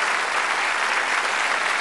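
Studio audience applause on the Bullseye game show, a steady, dense wash of clapping that holds evenly from start to finish with no voices over it.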